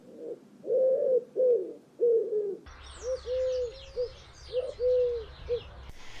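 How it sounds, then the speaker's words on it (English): A wood pigeon coos in a repeated low, soft phrase, followed by a second run of coos with faint background birdsong and outdoor noise. "Now, wood pigeons are a little bit tricky"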